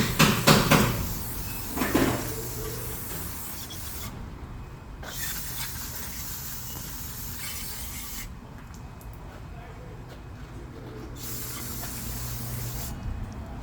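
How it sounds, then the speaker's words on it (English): Brake cleaner sprayed onto the rear brake hub of a 2017 Toyota Camry after rotor removal, a steady close hiss running for most of the clip with short pauses and a few brief clanks at the start. "Spray some brake cleaner."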